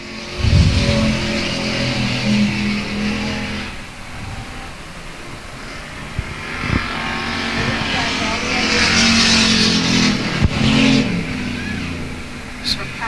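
Race cars circle the track at South Texas Speedway, engines roaring and rising and falling as they pass, with tires squealing as they slide down the back straightaway, all under continuous announcer commentary.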